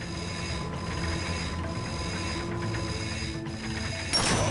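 A bolt crank is spun steadily in Ratchet & Clank, a continuous mechanical ratcheting whir with rhythmic pulses, loud and close, ending in a brighter burst.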